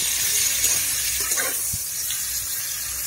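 Pointed gourd (potol) frying in oil, a steady close hiss and sizzle without a break, with no talking.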